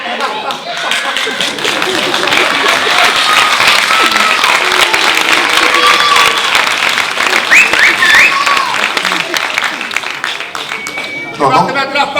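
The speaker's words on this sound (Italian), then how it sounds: "Sì, ma non capisco questo applauso." Audience applause fills a live Italian comedy stage show, a dense, steady wash of clapping that runs throughout with performers' voices mixed in and a brief lull near the end.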